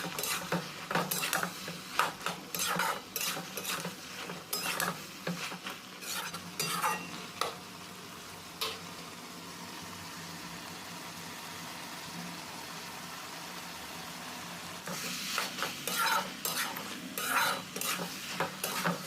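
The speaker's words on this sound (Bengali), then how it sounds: "এইভাবে নাড়াচাড়া করে সবজিটা ভালো করে কষে নিতে হবে" Potato and spinach sauté in a pan under repeated stirring, bursts of scraping and clattering utensil strokes around a soft steady sizzle, with a quieter stretch of plain frying midway and no voices.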